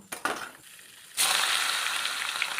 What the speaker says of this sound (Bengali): এরপর আমি উচ্ছেগুলো ভেজে নেব